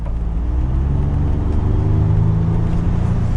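2022 Ford F150 XLT with a 3.5 liter EcoBoost engine revving under throttle from inside the cab, a loud, steady low rumble that builds slightly as the truck accelerates.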